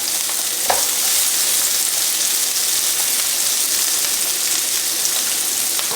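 Onions sizzle in a pan over medium heat while making orecchiette with meatballs and sausage, a steady loud frying hiss with a faint stir or two and no speech.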